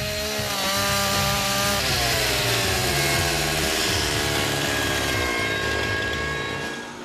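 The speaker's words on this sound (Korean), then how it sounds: "전기톱을 어떻게 이렇게 정밀하게 자르세요?" A loud electric saw whines steadily through wood while building a wooden mobile home, its pitch sliding as the blade works through the cut, then easing off at the end.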